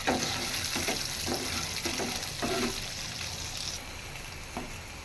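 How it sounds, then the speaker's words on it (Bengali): Dried and green chilies and garlic frying in a little mustard oil in a wok: a dense, loud hiss of sizzling with a few light stirring knocks, easing slightly over the last seconds, with no voices. "এবার কড়াই শুকনো মরিচ কাঁচা মরিচ এবং রসুন দিয়ে দিব আর সামান্য একটু সরিষার তেল দিয়ে এটা হালকা করে ভেজে নিব"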